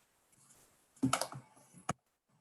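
Students in a college algebra class tap out answers on computer keyboards, a quiet cluster of quick clicks followed by one sharp keystroke, fairly close and otherwise near silence.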